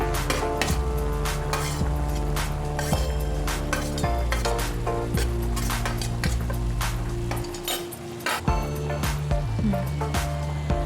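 Banana stem sabzi with salt, turmeric and grated coconut being stirred in a pan: continuous loud scraping and clinking of the utensil against the pan over a steady cooking sizzle.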